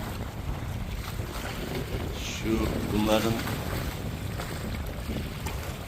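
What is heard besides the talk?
wind at sea during Çanakkale sailboat race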